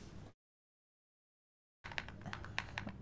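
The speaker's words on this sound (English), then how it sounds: "You like the sound of my keyboard?" A computer keyboard typed on during a live gaming stream: a short stretch of sound, then total silence, then a run of crisp, close key clicks in an irregular rhythm.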